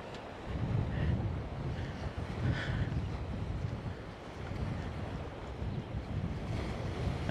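Wind buffets the microphone over Mediterranean waves washing in near a marina by a campsite at Bocca di Cecina, Italy, in November, a steady close rumble with surf swells throughout and no voices.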